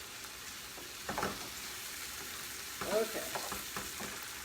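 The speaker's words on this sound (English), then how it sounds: "Put some brownness on my sausages." Sausages brown in a hot skillet alongside cauliflower, giving a steady low sizzle with a couple of brief stirring scrapes; a voice speaks briefly.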